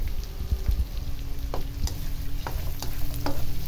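Ginger, garlic and onions half-fry in a pan, a steady close crackling sizzle with several sharp scrapes and light clinks of a utensil stirring against the pan.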